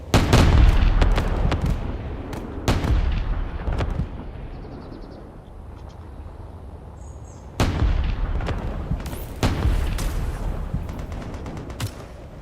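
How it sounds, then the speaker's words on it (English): Artillery fire in the Space Engineers game: heavy booming blasts and sharp gunshots scattered irregularly, loud up close with decaying rumbles between, a quieter lull in the middle, no talk. "Got more artillery fire."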